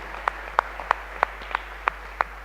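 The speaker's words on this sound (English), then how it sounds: "I think they deserve another applause for that outstanding answer" Sparse, evenly spaced claps, about seven sharp single hits over a low steady hum, follow an outstanding quiz answer at a national culture quiz final. The clapping is thin and faint rather than a full crowd ovation.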